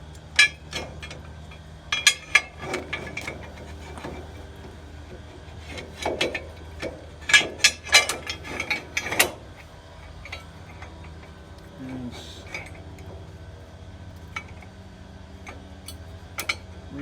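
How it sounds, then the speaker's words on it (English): Metal clinks and snaps of a padlock being closed onto a flatbed trailer lock, several sharp close clicks in clusters with quiet pauses between. "reach in there and snap the lock closed"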